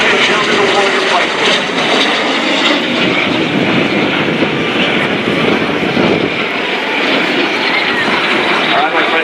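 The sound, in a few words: L-39 jet training aircraft flying at an airshow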